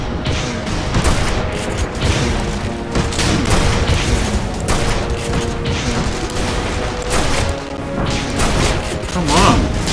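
Shotgun blasts and explosions in the video game Tribes: Ascend boom and crash repeatedly and close, in a dense, chaotic barrage with mechanical clatter throughout.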